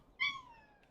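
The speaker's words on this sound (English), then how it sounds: "It's a cat." A cat gives a single short, clear meow at close range in a quiet indoor room, followed by a faint small sound.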